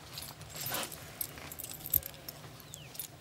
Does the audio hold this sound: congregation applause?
no